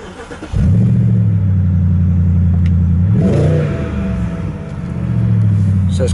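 A BMW 650i Sport Convertible engine cranks and catches, then idles with a steady low rumble before revving up and settling back, loud and close.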